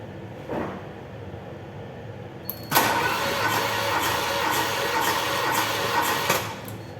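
A Volkswagen Passat B2 engine is cranked by the starter during a compression test, a loud rhythmic chugging of repeated turns close by that runs for a few seconds and then stops.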